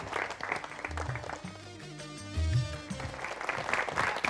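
Applause for a singer at an Indonesian comedy and music show, clapping heard alongside music and voices, rising and falling in loudness across the moment.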